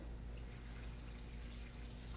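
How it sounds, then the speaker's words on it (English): Warm water is poured into semolina for puri dough, giving a faint, continuous trickling wash with no talk over it. "Just mix it and add some warm water."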